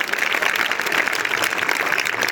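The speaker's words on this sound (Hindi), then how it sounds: "जोरदार तालियां भाई।" Loud, sustained applause from a crowd of students at an intercollege gathering, dense and even throughout with no voices standing out.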